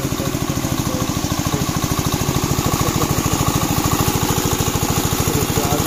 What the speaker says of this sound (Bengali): মেশিন পানি সেচ দেওয়ার জন্য যে মেশিন